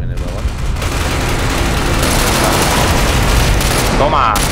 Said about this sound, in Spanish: Toma, tres tiros, los tres en la cabeza